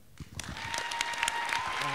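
A school assembly audience applauds its students, with the clapping building from scattered hits into a steady, moderately loud patter while voices murmur underneath.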